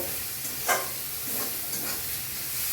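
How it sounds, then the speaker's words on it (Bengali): Onions frying in hot oil for prawn khichuri and being turned with a metal spatula, a steady close sizzle with a few soft scraping strokes, no talking. "এবার খুন্তি ব্যবহার করব, কেন খুন্তি ছাড়া এখন আর পেঁয়াজগুলো ভাজা যাবে না। আমি লাল করে পেঁয়াজগুলো ভেজে নেব।"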